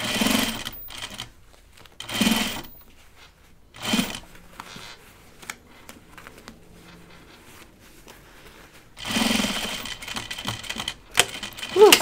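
A sewing machine stitches through thick linen cotton canvas for a bag, running in several short bursts of rapid mechanical chatter separated by quiet pauses, with a longer final run.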